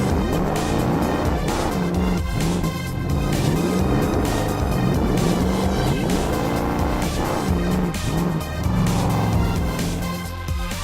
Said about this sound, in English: I am so excited to see a real monster truck race with 2D and 3D shapes.